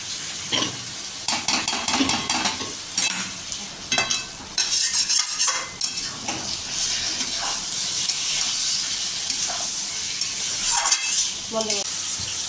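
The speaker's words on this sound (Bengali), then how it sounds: "এবার আমি এখানে দিয়ে দিলাম ভিজিয়ে রাখা গোবিন্দভোগ চালটা দিয়ে কিছুক্ষণ একটুখানি নাড়াচাড়া করে ভালো করে কষিয়ে নেব" Soaked Gobindobhog rice and green chillies are stir-fried in oil for Bengali muri ghonto, with a steady sizzling hiss and repeated scraping stirs of a spatula across the pan, close and fairly loud throughout.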